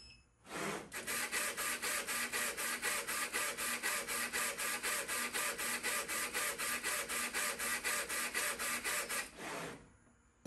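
A DIY CO2 laser cutting and engraving machine with an RF tube runs a fast engraving pass. It makes a steady, rapid rhythmic buzzing of dozens of evenly spaced back-and-forth strokes for about nine seconds, loud and alone, then stops.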